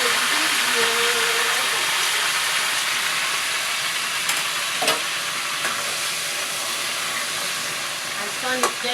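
Okra soup with fish, onion and meat is stirred gently in a pot, a steady close sizzle and simmer with a few sharp utensil clinks against the pot.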